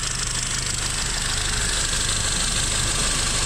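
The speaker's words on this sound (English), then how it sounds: "It's idling smooth." A car engine idles after a coolant refill, holding a steady, even rumble with a faint ticking texture, close and continuous with no talk.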